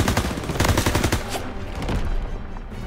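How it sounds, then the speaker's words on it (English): Call of Duty firefight with rapid automatic gunfire, a dense stream of sharp shots for over a second, then tapering into scattered, quieter reports. "Suppressive fire."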